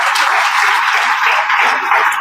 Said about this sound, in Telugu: ఒకసారి కంపెనీకి గట్టిగా చప్పట్లు కొట్టచ్చా?